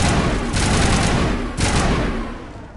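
Sustained assault rifle fire in the Mass Effect game, a loud dense fusillade of overlapping shots with two sharper bursts partway through, then tapering slightly toward the end.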